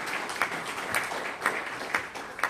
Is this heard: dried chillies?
no